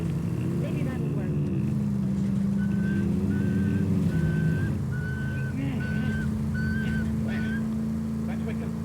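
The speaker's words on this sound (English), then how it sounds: "You're whistling. I know I'm whistling." A character whistles in the L.A. Noire video game: a thin, steady monotone tune in short repeated phrases, set over a constant low game hum, with talk from the game characters alongside.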